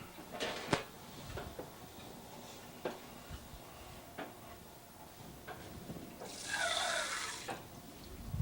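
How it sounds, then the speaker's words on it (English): Water poured from a tap into a bowl of bread dough in a bakery, a faint soft splash and trickle with scattered clinks and knocks before a brief stronger rush of running water. "I'm going to add a little bit of water and a little bit more flour"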